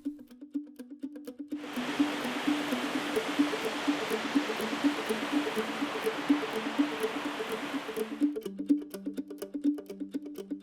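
A creek rushes steadily through a forest on a hiking trail at Waterton Lakes, a loud broad wash of flowing water fading in and out under soft rhythmic background music.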